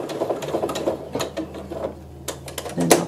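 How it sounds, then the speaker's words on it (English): A sewing machine stitches a satin-stitch edge on a bib, a close, rapid mechanical chatter of needle and gears that pauses briefly midway and then resumes. "lowering the needle exactly where my edge of my satin stitch is. And if I start in the middle, I can get some traction. And we'll stitch to the end."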